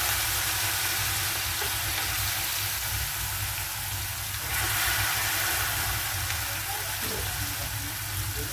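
Food frying in hot oil for a home dinner, a steady broadband sizzle with a low rumble running beneath it, fairly even throughout with a slight swell midway.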